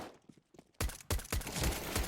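Gunfire in a shooter video game: quiet faint pops at first, then a sudden loud burst of rapid shots that continues as dense, close firing to the end.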